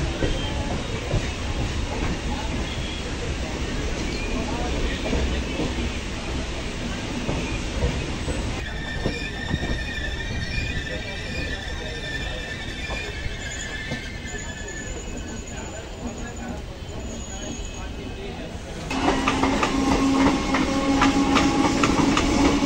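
The Purulia SF Express runs between Santragachi and Howrah, a sustained loud rumble of rolling coaches with wheel squeal and tonal screeches, continuous and close, with a voice speaking over it.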